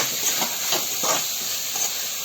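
Prawns sauté with onion and tomato in a pan, giving a steady soft hiss and sizzle with faint stirring scrapes, close and even throughout, with no talk.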